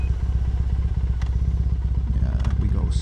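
A Triumph Thruxton 900 motorcycle rides along a road in Tennessee, its engine throbbing in a fast, steady pulse heard close up from the rider's position, with faint clicks and a rider's voice briefly under the engine near the end.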